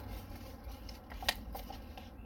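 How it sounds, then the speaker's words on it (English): Scissors snip the corner off a soil-filled seed starter cup, giving one crisp, close cut midway through, with a few faint clicks around it over a low, steady background rumble and no talking. "I like to slice the corner off with a pair of scissors"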